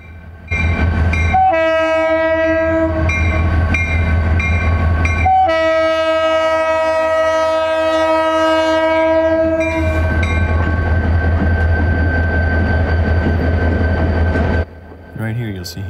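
A Keokuk Junction Railway GP-20 freight train on an eastbound grain run passes a crossing, sounding two loud, long horn blasts over a steady rumble, with wheels clattering close by once the horn stops.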